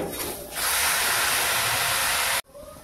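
Broken rice grains hit a hot griddle pan with a loud, steady broadband sizzle lasting over two seconds, then it cuts off abruptly.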